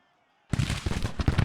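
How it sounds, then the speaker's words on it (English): Rapid volleys of musket gunfire from the Civil War strategy game Grand Tactician, a dense crackle of overlapping shots starting abruptly and continuing in uneven bursts. "I think that's the gunfire."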